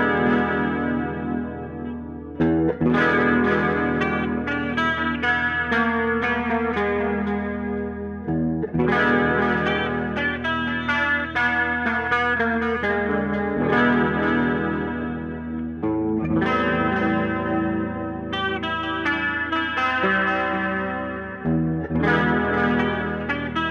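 BOSS DC-2 Dimension chorus pedal shaping a sustained chordal instrument, lush chorused tones swelling in repeated phrases with brief pauses, loud and steady with no talking.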